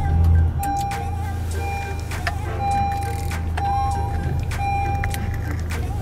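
A 2016 Honda Accord Coupe starts with a brief push-button surge of engine noise, then settles into a low, steady idle hum, heard close from inside the cabin, with faint chimes and clicks on top.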